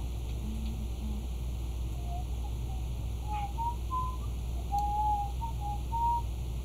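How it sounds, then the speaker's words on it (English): A person whistles a wandering, slightly wavering tune over a steady low background hum, with brief low notes early and then higher phrases, moderately loud and close. "Whistling sounds really bad on the stream"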